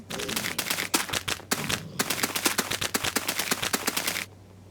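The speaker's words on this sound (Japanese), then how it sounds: "TNT も爆発させます。" Many blocks of TNT detonate in quick succession in a Minecraft forest mansion, a rapid crackling barrage of sharp blasts that runs for about four seconds and then cuts off into a quiet hiss.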